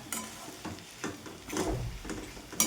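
A masala for a spicy potato dish roasts in a pan, with repeated scraping stirs and a soft sizzle that come in irregular strokes, close and moderately loud.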